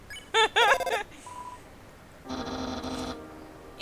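Short electronic phone-dialing tones from the Undertale video game: a quick burst of warbling chirps, a single soft beep, then a longer buzzing tonal ring, all clean and game-like.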